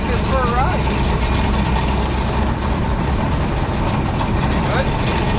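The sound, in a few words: Allis Chalmers Gleaner G combine harvester engine running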